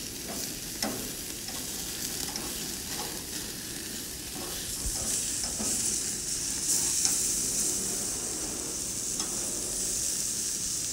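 Chicken and broccoli sizzle on a grill in a continuous close crackle, with occasional small pops and taps over the steady hiss.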